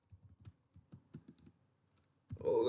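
Keys on a computer keyboard clicking in short irregular bursts while entering text, with quiet gaps between clusters and a louder burst of sound at the end.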